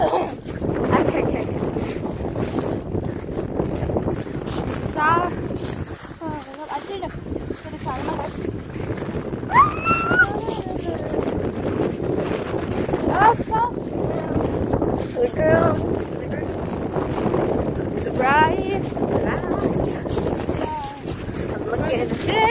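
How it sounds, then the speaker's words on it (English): Wind gusts rumble and buffet the microphone outdoors on a nature walk. The steady blustery noise runs throughout, under frequent voices and high-pitched talk. "Can you hear the wind?"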